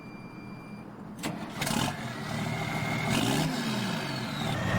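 A big tractor engine cranking and firing up in Farming Simulator 19, with a couple of sharp starter bursts followed by a rising, steady idle rumble, heard alone with no talk.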